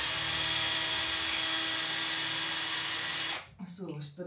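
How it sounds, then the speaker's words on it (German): A power drill runs continuously at a steady high whine for over three seconds, close and loud, then stops abruptly and a voice speaks briefly. "Ich hasse nichts mehr als bohren."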